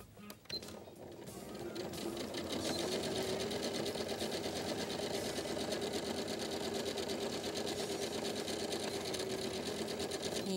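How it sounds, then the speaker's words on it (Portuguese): A sewing machine runs steadily for about ten seconds, stitching a simple straight seam on fabric for an angel-shaped pillow, with a continuous even mechanical whir after a brief start. "passei a costura"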